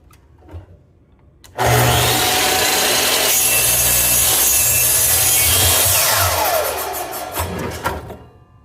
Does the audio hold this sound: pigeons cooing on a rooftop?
no